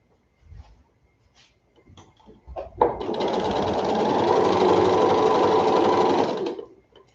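A sewing machine stitches quilt fabric in one steady, close run of about three seconds, rising after a few soft handling knocks and stopping cleanly.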